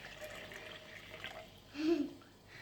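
Water poured into a container at home for a children's popcorn activity, a soft, faint trickle and splash that swells briefly near the end, with people talking quietly nearby.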